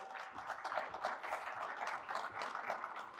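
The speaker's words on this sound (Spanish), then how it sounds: "Un aplauso, por favor, otra vez para ella." Audience applause at a digital transformation panel event, a steady patter of many hands clapping at moderate volume, fairly close and without talk.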